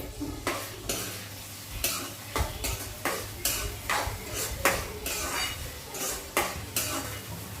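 Onion, chilli and tomato fry in a pan under regular scraping and stirring strokes, a spatula clattering rhythmically against metal over a steady sizzle.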